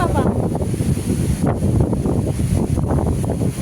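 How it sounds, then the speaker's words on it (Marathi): Strong wind roars and buffets the microphone continuously, a dense low rumble with gusting surges throughout. "एवढा वारा सुटला बापरे"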